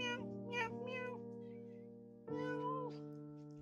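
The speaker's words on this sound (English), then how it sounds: "Meow, meow." Two long, drawn-out meows from a kitten, close and fairly steady in pitch, separated by a brief pause.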